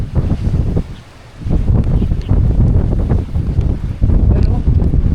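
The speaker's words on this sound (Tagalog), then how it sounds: "Grabe lakas ng hangin" Strong wind roars and buffets against the microphone in gusts, with a brief lull, and a voice occasionally heard underneath.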